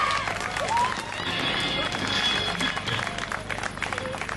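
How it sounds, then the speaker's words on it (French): An audience at a school musical applauds in a dense, steady wash of clapping that fills the whole stretch, with some voices mixed in. "un tonnerre d'applaudissements pour Agathe, notre Petit Prince"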